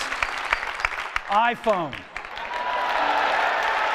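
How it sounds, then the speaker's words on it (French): A keynote crowd at Apple's iPhone unveiling erupts in applause and cheering, first brief scattered claps under a voice, then a dense, sustained roar that builds and holds to the end. "La foule est en délire"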